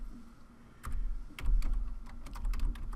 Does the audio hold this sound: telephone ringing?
no